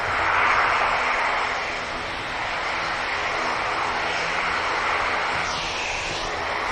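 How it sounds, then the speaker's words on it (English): An EasyJet airliner takes off from Manchester Airport bound for Belfast, its engines a loud broad continuous roar that holds steady throughout. "EasyJet blasting off. Aircraft just heading over to Belfast."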